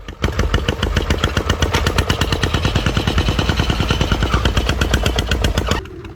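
A custom-built motorcycle engine fires up and runs with a loud, rapid, staccato exhaust beat, steady pops close by for several seconds before cutting off abruptly near the end.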